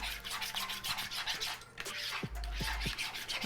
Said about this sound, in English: You wanna scrape everything off the bottom because stuff tends to stick to the bottom.